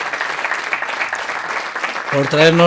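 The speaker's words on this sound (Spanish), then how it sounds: "pido un aplauso para los dos ya en conjunto" Steady applause from a conference audience for two speakers, a diffuse wash of clapping that runs on until a voice starts speaking near the end.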